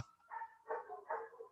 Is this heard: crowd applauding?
no